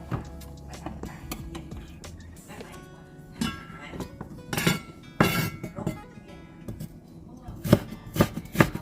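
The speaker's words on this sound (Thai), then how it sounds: "เดี๋ยวหั่นกระชายก่อน" Knife strikes on a cutting board as fingerroot is chopped, irregular chopping taps in quick bursts, with a voice speaking softly at times.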